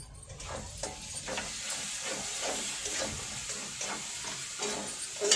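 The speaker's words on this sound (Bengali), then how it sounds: "চলো মশলাগুলো কষিয়ে নিই।" Spices fry with a splash of water in a pan for a village-style fish curry, giving a steady soft hiss and sizzle with faint stirring scrapes, close and fairly quiet.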